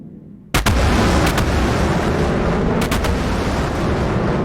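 A loud, steady jet roar from F-15E fighters rumbles overhead, surging in abruptly and staying dense and powerful for several seconds, with no voices.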